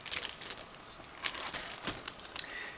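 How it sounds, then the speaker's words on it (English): A plastic bag holding parts of a 1/32 Zoukei Mura Hs 129B-2 model kit is cut open, giving short crinkling, rustling snips and tearing bursts at an irregular pace, close and fairly quiet, with no talking. "I'm cutting through the plastic bag, so please be patient a bit."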